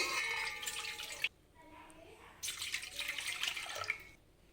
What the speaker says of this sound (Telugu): ఇప్పుడు ఇలా పెద్ద గిన్నె ఒకటి తీసుకొని ఇందులోకి రెండు గ్లాసుల వాటర్ వేసుకోవాలి